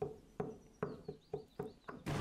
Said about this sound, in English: let's knock on this guy's door